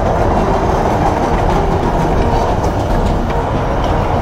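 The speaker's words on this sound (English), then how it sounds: "This is the train station." Train at a downtown Miami station, a loud continuous rumble of rolling cars on rails, close and steady throughout with no voices.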